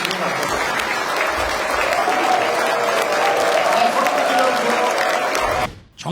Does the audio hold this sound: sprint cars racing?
no